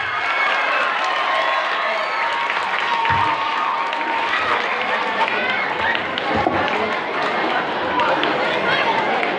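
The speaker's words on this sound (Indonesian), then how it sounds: "tepuk tangan untuk semua dulu" Junior high school students at a psychology counselling session clap and cheer together as a crowd, steady and loud throughout, with shouting and chatter mixed in.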